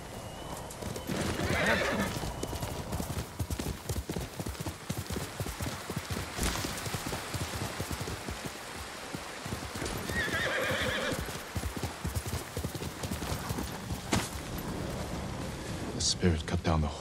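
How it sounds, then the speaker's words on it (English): Hooves clip-clop steadily while horses whinny loudly at intervals in the video game Ghost of Tsushima, with a low rumble and some background chatter underneath. "Horses."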